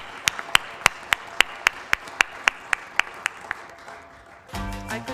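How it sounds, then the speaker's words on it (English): An audience at a changemakers event gives a round of applause, heard as about a dozen crisp, evenly spaced hand claps in a slow steady rhythm, followed by a burst of rustling noise. "Let's give yourself a big round of applause."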